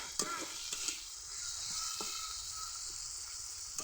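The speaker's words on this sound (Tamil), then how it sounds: "கருவேப்பிலையும் போட்டு எல்லாமே நல்லா வதக்கியாச்சு" Curry leaves sauté in a hot pan with a steady, close sizzle, broken by a few light clicks of stirring, with no voices.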